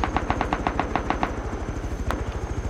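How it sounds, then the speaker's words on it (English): Gunfire in the survival game Rust: a rapid burst of evenly spaced automatic shots, then a steady low mechanical thumping continuing underneath, fairly close and loud. "The guy's shooting at us."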